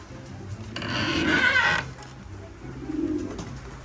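Racing pigeons in a loft on a rainy day, giving low, throaty coos that rise and fade in two soft phrases, heard close with a brief wing flutter.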